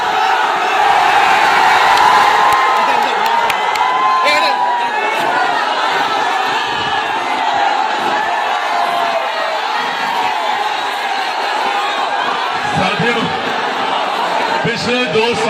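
Dense crowd roar at Chirag Paswan's political rally in Mokama, a loud sustained mass of cheering, whoops and chatter that swells early and stays steady throughout, with scattered shouts rising above.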